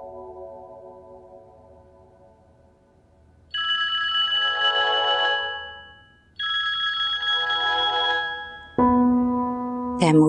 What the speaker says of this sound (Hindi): तैमूर का फोन